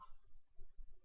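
Single sharp key click from pressing F1 on a computer keyboard during a programming tutorial, quiet and close, followed by faint low rumble with no talk.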